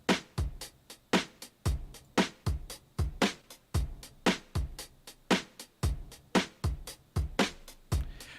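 A drum loop plays in a steady, brisk rhythm of kicks and snares, pitch-shifted upward in Cubase so the hits sound tight and raised, clean and without talk.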